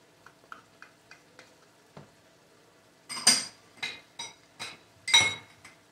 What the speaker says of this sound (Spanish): y sofriendo el picadillo con todo esto